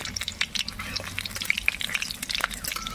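Dried red chilies, whole cumin and fennel seeds crackle in hot mustard oil in a heated wok, with a steady close-up sizzle broken by sharp pops and spits throughout.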